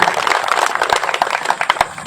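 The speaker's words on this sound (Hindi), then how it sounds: "एक बार मोदी जी के लिए जोरदार ताली बजाएं" A crowd claps for Modi at a political rally, producing dense, steady applause with sharp individual claps standing out, loud and continuous throughout.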